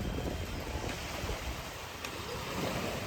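Strong wind buffets the microphone on a beach facing the water, a steady roaring rush with waves washing underneath, loud and continuous with no voices.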